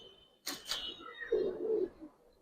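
Giribaz pigeons in a loft give a single low, drawn-out coo lasting about half a second, preceded by two brief sharp noises, with quiet room ambience around it.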